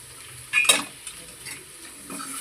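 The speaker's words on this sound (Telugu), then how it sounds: "ఇప్పుడైతే నేనైతే ఇగో చికెన్ అయితే వేస్తున్నా" Chicken pieces frying in a pan for a Telugu-style chicken curry, a soft sizzle broken by a few scraping stirs of a spoon against the pan, close and without talk.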